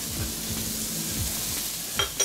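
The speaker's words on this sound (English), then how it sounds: "let's go ahead and put in a little bit of that butter" Butter sizzling in a hot pan beside peppers and garlic, a steady close crackle with a few light scraping stirs near the end.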